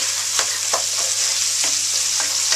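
Onion and half a clove of garlic cook gently in a pan over very low heat, giving a steady soft sizzle with a few light scrapes of stirring scattered through, close by and without talk.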